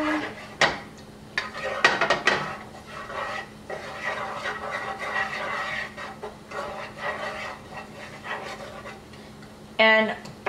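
Garlic being stirred in a pan for tomato basil pasta, clinking utensil knocks and light scraping against cookware over a low steady hum, moderately close.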